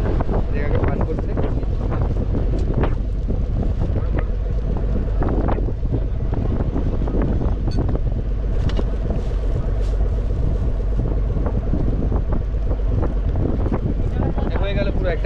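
A boat travels along a Sundarbans river waterway, its steady engine drone and water rush continuous under heavy wind buffeting on the microphone, with voices talking intermittently throughout.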